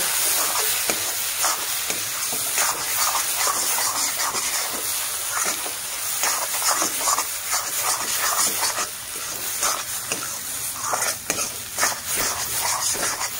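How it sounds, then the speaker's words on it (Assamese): Soaked red lentils fry with chopped banana flower in a pan, giving a continuous soft sizzle with occasional scraping stirs, close and steady, without talking. "মচুৰ দালিখিনি কলডিলৰ লগত অলপ ভাজিব লাগিব"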